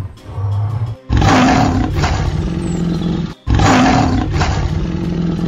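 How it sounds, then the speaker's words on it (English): A lion roars twice in a fairytale scene, each roar a loud, rough, sustained bellow with a sharp onset after a brief silence, the second following about two seconds after the first ends. "He believed the other lion was roaring too."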